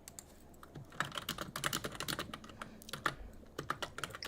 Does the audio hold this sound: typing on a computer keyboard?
yes